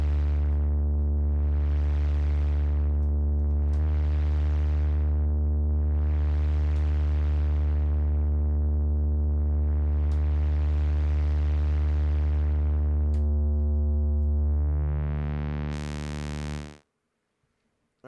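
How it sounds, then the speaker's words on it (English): Synthesizer patch for dub techno with a sine-wave LFO modulating it: a steady droning tone whose brightness swells and recedes in slow regular waves, ending with a brief bright rise before cutting to silence. "Bring in the LFO as a sine wave, but we're already getting like a fairly sine-ish sound."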